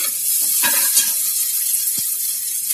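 Onion and garlic frying in a pan give a steady, close sizzle, with a few soft scrapes of stirring over it.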